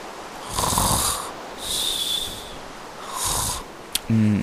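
A character sleeping in bed in the Minecraft video game snores three slow, breathy times in an even rhythm, with a short click and a brief electronic tone right at the end.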